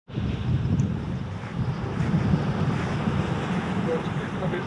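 Strong coastal wind buffets the microphone on the Oman shore as waves build, a constant low rumbling roar with surf beneath it.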